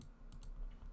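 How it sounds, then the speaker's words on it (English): A forehead thumps down onto a computer keyboard, giving a short, faint burst of clacking key hits, a couple of quick taps in under a second. "have you never heard the sound of forehead banging on keyboard?"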